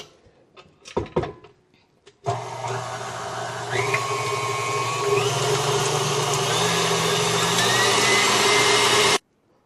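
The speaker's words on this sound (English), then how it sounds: "we're going to put in our egg whites. And we're going to whisk this for about 10-15 minutes on high" After a few brief clatters, an electric mixer switches on high to whisk egg whites for a dulce de leche cake roll, a loud, steady motor whine running for about seven seconds before it cuts off abruptly.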